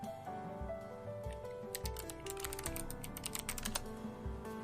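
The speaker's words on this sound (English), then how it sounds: "Do you want to hear my keyboard popping off right now?" Continuous computer keyboard typing with dense, rapid key clicks and a burst of quick strokes midway, heard close up during a calm Magic: The Gathering Kamigawa: Neon Dynasty gameplay session, with no talking.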